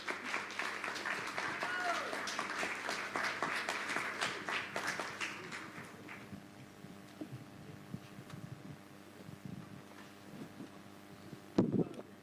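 An audience applauds after a panel discussion at an education conference, with dense clapping filling the first six seconds and then thinning into scattered claps and room noise.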